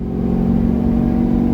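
A supercharged C6 Corvette engine, fully modified and freshly tuned, holds a loud, close, steady rev with a deep throaty hum for just over a second.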